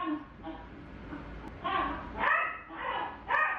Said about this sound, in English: maybe you can hear the dogs get crazy and it makes it impossible